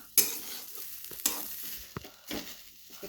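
Freshly grated coconut is roasted in a pan for barfi, giving a soft sizzle broken by a few scraping stirs of a spoon against the pan, close and fairly quiet with no talking.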